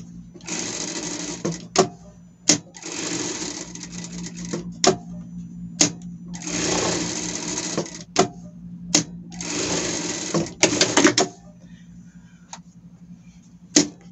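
A sewing machine stitches around the edge of a pet bandana in four separate bursts of steady, close running, with sharp clicks and handling knocks in between.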